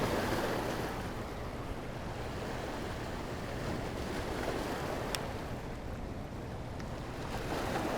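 Water rushing out of a dam spillway, a steady broad roar that holds evenly throughout, with wind buffeting the microphone and no speech.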